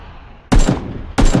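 Two loud, close gunshots ring out in the PUBG video game about two-thirds of a second apart, each a sharp crack with a brief echoing tail after a quiet lead-in.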